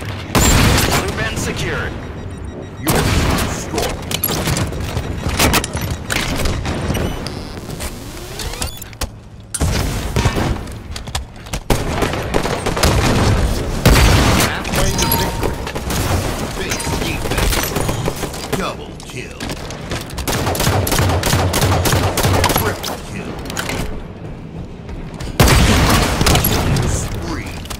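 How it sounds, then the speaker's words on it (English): Halo rocket launcher explosions in a competitive match, heavy booming blasts and rapid gunfire in dense repeated bursts, loud and near, with brief announcer voice lines and short gaps between volleys. "Rocket launcher ready."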